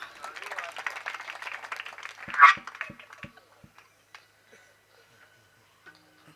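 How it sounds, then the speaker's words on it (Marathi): An audience at a Marathi kirtan claps along in a steady, rhythmic patter for a couple of seconds under a singer's voice, then fades to a few scattered taps. "टाळी वाजवा."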